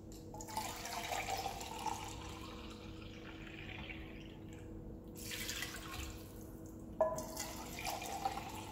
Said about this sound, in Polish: I dodaję taką samą ilość wody jak mleczka kokosowego.